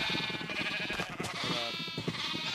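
Minecraft sheep bleat in quick overlapping calls, close and fairly loud, with a nasal wavering tone throughout.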